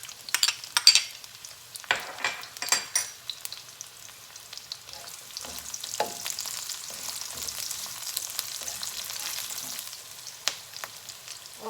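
Onion frying in a pan for beef broccoli, a bright hissing sizzle that settles into a steady crackle, with scattered spatula clinks and scrapes early on and no speech.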